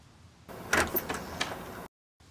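A door opening in one smooth motion, a sustained sliding rumble with a few clicks and rattles that runs for over a second and then cuts off into silence.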